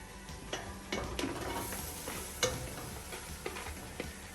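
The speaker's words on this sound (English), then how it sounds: "I already cut my potatoes, my celery, my onion, and my garlic. I'm going to throw this all in here." Chopped potatoes, celery, onion and garlic tumble into a soup pot with scattered soft thuds and ticks over a low steady sizzle, close and fairly quiet, with no talking.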